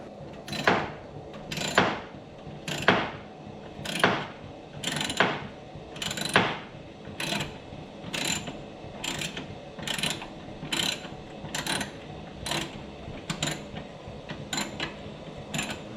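A bolt on a car engine or transmission mount is worked loose with a bar, giving a steady series of ratcheting clicks and metallic creaks repeating roughly every second, fairly quiet and close.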